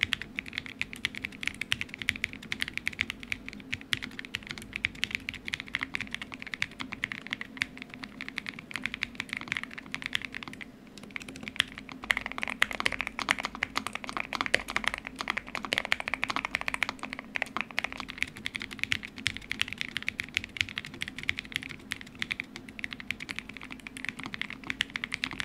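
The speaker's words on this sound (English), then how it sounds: "and here's how they sound" A slim mechanical keyboard is typed on continuously, moving across aluminum, palm and PC plates with varying foam: rapid, steady clacking and tapping, close and clear, with no speech throughout.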